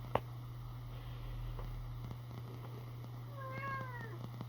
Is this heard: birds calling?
no